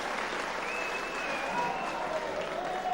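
A wrestling crowd at Lincoln applauding and cheering a referee as he enters the ring, with dense, sustained clapping filling a hall.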